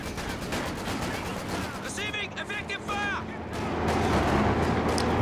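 Vickers machine gun fire in Company of Heroes 2, rapid bursts of automatic gunfire mixed with distant artillery thumps and battle noise, sitting under a commentator's voice and swelling louder toward the end.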